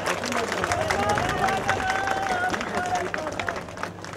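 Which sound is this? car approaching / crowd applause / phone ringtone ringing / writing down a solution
crowd applause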